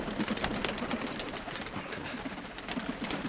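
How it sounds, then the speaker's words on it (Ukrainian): A young pigeon, a squab of the 76 line, coos softly among other birds, with repeated short low coos over a steady close background of rustling and chirping. "Це голубеня 76-го."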